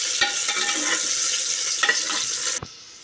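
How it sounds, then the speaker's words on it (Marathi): Chopped onion sautés in a pan for a cashew and bean dish: a bright, dense sizzle with faint stirring scrapes, close and steady for over two seconds, then cutting off abruptly to quiet, with no voices. "कांदा, कांदा छान परतून घ्या।"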